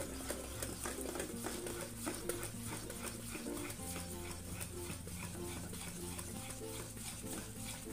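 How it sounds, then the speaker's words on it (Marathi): Khaman dhokla batter is stirred in one direction in a bowl, a quick repetitive scraping and swishing rhythm that stays close and continuous throughout. "हे मिश्रण परत आम्ही एकाच डायरेक्शनने आपण फिरवून घेणार आहोत"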